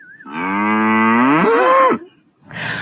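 A dairy cow at the UC Davis cattle facility gives one long, loud, close moo lasting nearly two seconds, followed by a brief rustle or second sound as it ends.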